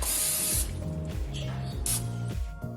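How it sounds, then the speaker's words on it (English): Canola oil cooking spray hisses from the can in two short, close bursts, the first longer than the second, while pancakes are being made, with faint background music underneath. "For our first few pancakes, we used this canola oil spray"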